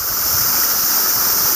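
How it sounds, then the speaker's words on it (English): Water pours steadily into a garden pond at Oyakuen Gardens in Aizu, a continuous close rushing wash with no pauses. "Water. Where the water comes in."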